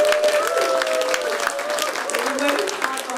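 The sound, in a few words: audience cheering and applauding for the kitchen crew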